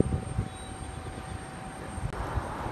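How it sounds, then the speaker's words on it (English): A Delta airliner backing up on the airport tarmac, a distant steady engine whine and rumble heard from afar with a faint constant tone, no talk. "Your plane is backing up right now."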